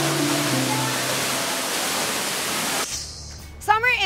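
Mother Falls at Dito Mabo Falls roars as a loud, steady rush of falling water for about three seconds, then drops away under a quieter scene where someone briefly speaks.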